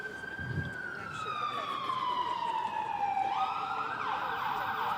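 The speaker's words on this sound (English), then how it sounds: "you can also look at the fire engine that's going by" A fire engine siren passes by during an outdoor mayoral announcement, its wailing tone sliding steadily downward and then jumping back up, loud and close with background crowd noise.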